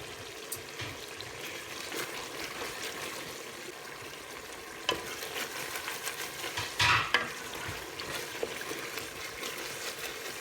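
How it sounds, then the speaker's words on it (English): Onions and tomatoes cooking in a kofta curry pot are stirred with scraping, wet churning strokes over a soft simmering sizzle. Close and moderately loud, with a stronger clatter near the end. "you need to really mix the pot really well"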